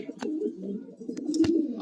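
Racing pigeons, a rare chocolate bar pair and blue bar racers in a loft, coo steadily and close by in soft throaty rolls, with a few sharp flutters or clicks breaking through.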